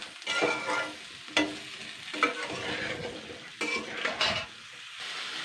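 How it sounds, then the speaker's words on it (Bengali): Vegetables frying in a pan while being stirred, with a spatula scraping and clinking against the metal in several uneven strokes over a soft, steady sizzle, close and alone. "এবার এইগুলো দিয়ে ভালো করে 2 মিনিট নাড়াচাড়া করে নেব"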